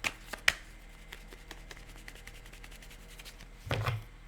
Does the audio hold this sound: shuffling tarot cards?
yes